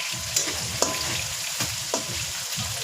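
Squid sizzles hard in a hot pan with tomato, with repeated sharp scrapes and clacks of a utensil stirring through the crackling oil, close and loud, no voices.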